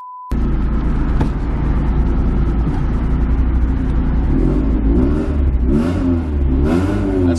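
A BMW E36 318ti engages gear and pulls away, its engine revving loudly and close up in a steady, rough rumble that climbs in pitch toward the end, with no voices over it.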